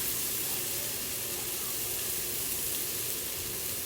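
Meat sizzles loudly in a hot pan beside bread, a steady dense hiss of frying close up that never lets up, with no talking.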